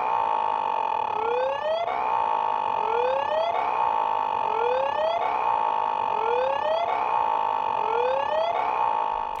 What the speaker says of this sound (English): Whether testing sirens,